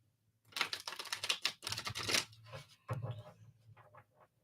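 Tarot reading cards shuffled during a live card-reading session: quick papery riffling and flicking in two main bursts, close and fairly quiet, with softer taps trailing off.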